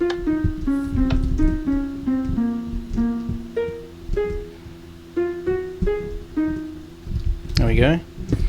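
Minecraft note blocks play a melody as a steady sequence of plucked, bell-like tones, clear and close, with no voices.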